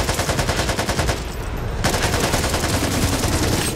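Rapid automatic gunfire in the zombie shooter Back 4 Blood, loud and dense bursts filling most of the clip, with a brief lull before the shooting resumes steadily to the end.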